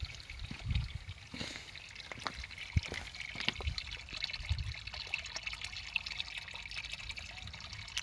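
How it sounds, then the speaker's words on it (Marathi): Natural snowmelt-fed mountain spring water trickles quietly and continuously, with soft dribbles and occasional splashes heard close by. "हा आहे झरणा."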